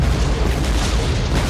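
A deep, continuous rumbling blast from wartime bombardment of a rocky Japanese stronghold, heavy low boom sustained throughout with dense roar and no voices.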